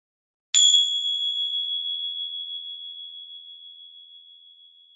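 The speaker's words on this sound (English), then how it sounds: "focus your listening during the sound of the chimes" A single high-pitched chime is struck once, ringing out as a pure, clear tone that slowly decays over several seconds in an otherwise silent room.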